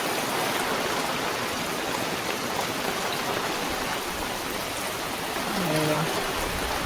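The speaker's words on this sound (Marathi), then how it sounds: "वारं पण सुटलं जोरात आणि पाऊस पण पडता. मुसळधार पाऊस लागता, मुसळधार." Heavy monsoon downpour with strong wind, a dense continuous hiss of rain drumming on surfaces, loud and close throughout, with a brief faint voice near the end.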